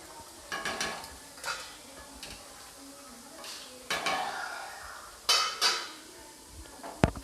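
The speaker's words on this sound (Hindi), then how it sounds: "मैं इसे हल्के हाथों से चलाने के बाद मैं इसे 1 मिनट के लिए ढक के पकाऊंगी।" A spoon scrapes and knocks against a pan in irregular strokes, gently stirring parwal sabzi gravy over a low-to-medium flame, with a soft background hiss and a sharper clink near the end.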